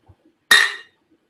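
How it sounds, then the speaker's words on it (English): A single bright clink of ice cubes dropping into a glass for lemonade yerba mate tereré, one sharp close strike ringing briefly and fading within half a second, heard alone in a quiet room. "Got myself a glass with some ice."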